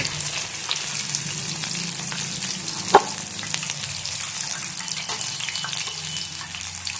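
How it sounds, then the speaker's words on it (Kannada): Stuffed green chillies (mirchi) frying a second time in hot oil give a steady, loud, dense sizzle that fills the whole stretch, with one sharp pop near the middle and no voices. "ಡಬಲ್ ರೋಸ್ಟ್ ಆಗುತ್ತಲ್ಲ ಡಬಲ್ ಫ್ರೈ ಆಗ್ತದೆ ಮಿರ್ಚಿ"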